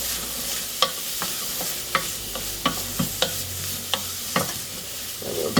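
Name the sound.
ginger and garlic frying in sesame oil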